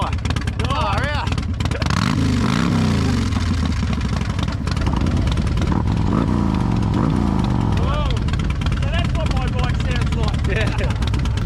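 A Harley-Davidson Road King motorcycle engine runs loudly up close, with a steady throbbing rumble and occasional revs, while people talk over it.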